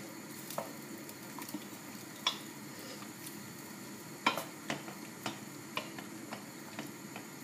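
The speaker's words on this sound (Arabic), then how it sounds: "نحلو الطماطم نتاعنا بالكدا هي والهريسه، خليوهم توا يتقلاو" Tomatoes and harissa frying in a pan give a faint, steady sizzle, broken by scattered small ticks and pops that come irregularly along the way.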